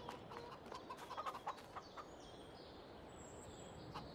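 Soft clucking of chickens in Farming Simulator 22, a few brief calls clustered together over a low background hum, faint and somewhat distant.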